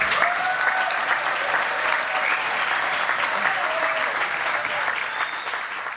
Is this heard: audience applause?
yes